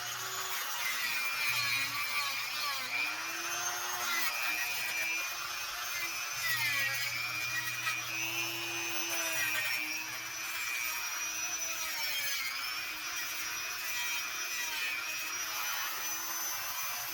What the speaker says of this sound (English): So I'm going to get that with the Dremel real quick before I put it back together.